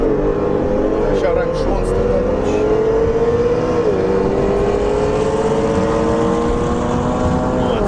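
A stage 2 BMW M5 F90 rated at 840 hp races a stage 4 Audi A3 2.0T rated at 600 hp in a drag race. Engine roar climbs steadily as both cars accelerate, heard from inside one car under continuous conversation.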